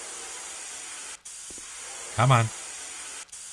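Bug spray in the game Cafe Owner Simulator gives a steady hiss lasting the whole clip, broken by two short gaps, with someone briefly speaking over it.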